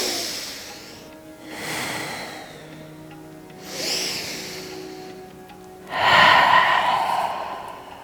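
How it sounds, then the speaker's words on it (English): Slow, deep yoga breaths during a flowing movement session: three long airy inhale and exhale swells, close and fairly soft, the last one loudest and breathiest, with no talking. "And last time, let's breathe in"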